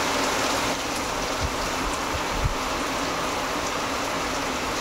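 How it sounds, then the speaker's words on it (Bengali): Unseasonal February rain falls steadily as a constant, dense outdoor wash of sound, with a few soft low thumps and no voices. "বৃষ্টি হচ্ছে, একদম অসময়ের বৃষ্টি"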